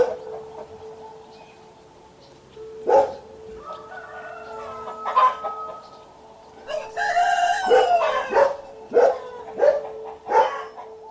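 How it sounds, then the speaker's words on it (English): Chickens cluck and a rooster crows in a farmyard setting, with several loud, close calls rising and falling across the latter half after a quieter start, and a faint steady hum underneath. "Mike the Headless Chicken."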